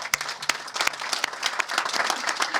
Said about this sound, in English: So if you'll give all of them a round of applause, please.